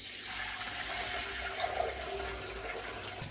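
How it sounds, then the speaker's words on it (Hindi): Milk poured into a household kitchen machine, a steady close liquid rush and splash that holds at an even level for a few seconds, with no talk. "लो आप दूध डाल दो"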